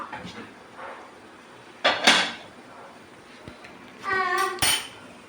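A metal puttu steamer lid is lifted off after the stove is switched off: a few sharp metallic clanks and scrapes, close and fairly loud, with a ringing clatter near the end and quiet pauses between.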